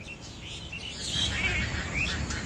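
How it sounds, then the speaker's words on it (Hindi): Birds chirp and tweet in the open at Bharatpur national park in Rajasthan, a few thin calls rising over a steady outdoor wash of background noise, moderately distant. "परिंदों की चहचहाट सबको पसंद है।"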